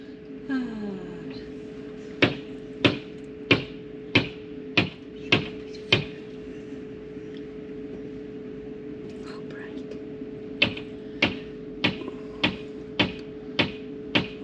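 Sharp metallic knocks repeat in two steady bursts, roughly one strike every half second, with a short pause between the runs; moderately loud against a quiet background.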